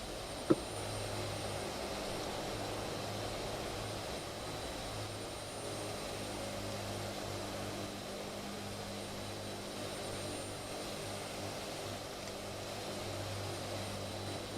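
Hercules propeller engines drone steadily on a runway in a flight simulator, a continuous low humming hum with a faint tonal whine, unchanging throughout, with a single brief click near the start.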